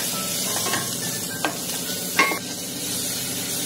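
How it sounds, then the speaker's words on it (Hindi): Mushrooms frying in butter with light-browned garlic make a loud, constant close-up sizzle, and a couple of brief spoon scrapes against the pan cut through it. No one talks. "अब हम इसमें डालेंगे मशरूम, क्योंकि मशरूम हल्का सा, इसको भी हम भुनेंगे बटर में।"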